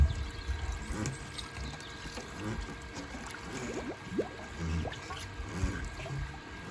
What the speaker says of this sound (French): Vous allez entendre des bulles d'air qui vont sortir du tuyau.